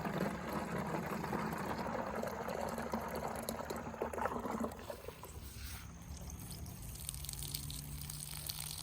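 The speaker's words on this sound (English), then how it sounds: "And then fill it up with some water." Water running into a container to mix fish emulsion fertilizer for a garden, a steady hissing, gurgling pour that softens partway through as the fill level rises.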